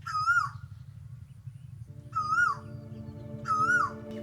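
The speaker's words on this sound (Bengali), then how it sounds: "দেখেন কোকিল কত মিষ্টি কণ্ঠে ডাকতেছে" An Asian koel calls from a tree in open farm fields in Narsingdi. Its clear, rising whistled call repeats three times at even intervals over a soft background hum, and a steady low drone joins partway through.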